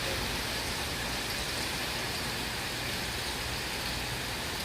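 Heavy rain from a Hurricane Dorian band in Orlando at night, a dense, even hiss of downpour that holds steady throughout at moderate level, with no voices.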